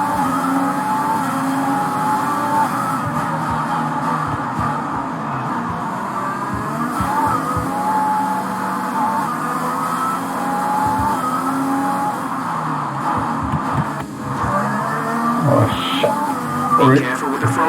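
Formula 1 cars race in a 2020 driver career video game, engines whining loudly at steady high revs with brief shifts and tire noise as one car runs close behind another, under commentary.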